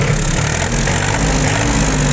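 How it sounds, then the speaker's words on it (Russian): A Japanese mini tractor engine runs close by at a steady, even idle, a loud continuous mechanical drone with a low throbbing hum and no speech over it. "Работает, тем не менее, двигатель"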